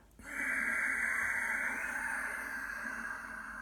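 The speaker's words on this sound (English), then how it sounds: "as you do ujjayi breath, it'll sound like this." One long ujjayi exhale through a narrowed throat, a close, steady breathy hiss that starts abruptly and fades gently over about three seconds with no talking.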